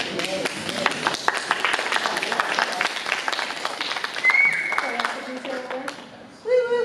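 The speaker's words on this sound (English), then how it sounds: "Please give her a big round of applause." Round of applause at a community coalition meeting, scattered clapping with cheering voices and talk over it, tapering off near the end as a voice resumes.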